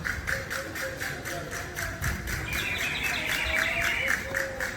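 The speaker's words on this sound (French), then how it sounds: "C'est des gros oiseaux." Big birds call in a video game, repeated chirping cries over a rhythmic tapping and shuffling background, with a voice faintly present.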